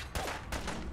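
A short burst of gunfire in Fallout 4 breaks out as two loud, close cracks about a third of a second apart, set against a steady low rumble of combat.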